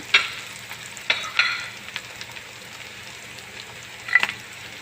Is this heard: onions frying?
yes